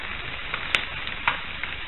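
Potatoes sizzle in hot sofrito in a frying pan, a steady broad crackle with a few sharper pops and spits standing out, close and moderately loud with no talking.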